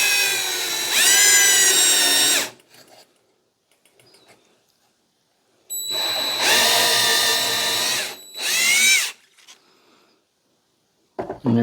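A power drill driving into a wooden board for small drywall screws, in two long loud whining bursts with rising and falling pitch, separated by quiet pauses and a brief third start at the end.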